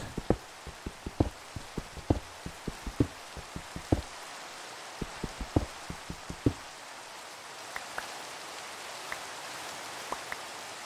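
Rain falling in the Minecraft video game, a steady soft hiss of drops with scattered sharper tapping ticks throughout, no voices.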